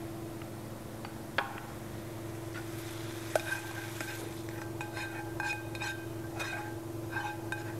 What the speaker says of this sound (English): So I'm just going to mix this.